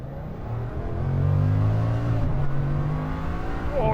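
A Bugatti Chiron Super Sport 300+ accelerates hard from a standstill past 100, its engine a loud, sustained roar with rising tones heard from close by inside the car.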